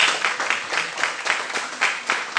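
A church congregation claps at the close of an evening service, an uneven, pulsing round of applause from a moderately sized crowd.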